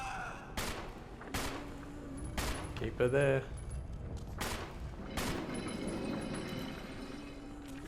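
Gunfire in the Resident Evil HD video game, firing at an invisible enemy: several sharp, spaced shots ring out over roughly eight seconds, with a short burst of other game sounds in the middle and people talking between the shots.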